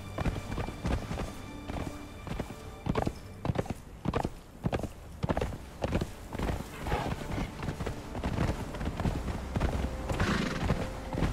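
Horse hooves clatter in a fast, steady clip-clop rhythm in the video game Conan Exiles, with occasional neighs mixed in over ambient game sound.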